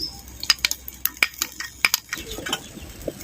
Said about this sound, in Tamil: சேர்த்த தயிரை அப்படியே கிண்டி விட்டு மூடி போட்டுக்குவோம்.